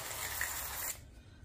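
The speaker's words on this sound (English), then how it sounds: "I'm gonna spray a pan with my avocado oil" Avocado oil is sprayed onto a pan for roasting sweet potato slices: one steady, close hiss lasting just under a second, then it cuts off to quiet.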